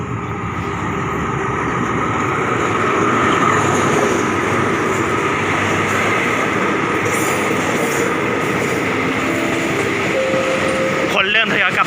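A passenger train rumbles steadily close by at Chum Saeng station in Thailand, its continuous rolling noise filling the scene with faint voices mixed in, ending with a brief metallic rattle.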